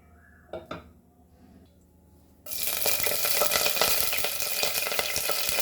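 Curry leaves and hing drop into hot oil for a Goan field beans curry, and after a few quiet clinks of a utensil, a loud, dense sizzle erupts suddenly and keeps crackling steadily up close.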